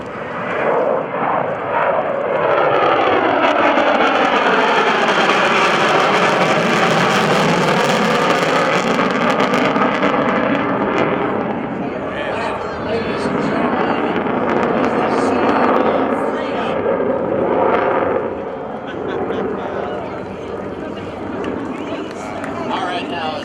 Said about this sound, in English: the B-1B Lancer, we know it as the Bone, in the extended wing configuration